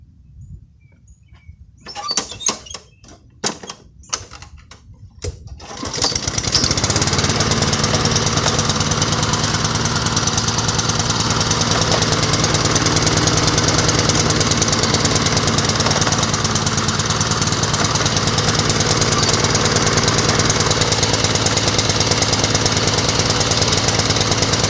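Honda lawn mower with a newly replaced cable, cranked with a few short pulls that catch, then the engine running steadily and loud through the rest, no talk.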